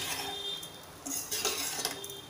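Poha, flattened rice with onion and potato, turned gently in a pan with a spatula, giving soft scraping and light metallic clinks under a steady background hiss, close by and without speech.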